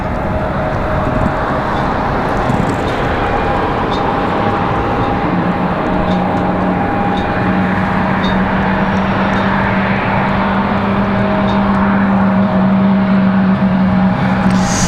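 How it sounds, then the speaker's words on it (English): Embraer E175 regional jet taxiing out at Raleigh-Durham International Airport, a steady continuous engine rumble and whine holding at a constant level throughout, with a sustained low drone and faint tonal hum, no voices. "It's got a Embraer E175 headed out this way, taxiing out."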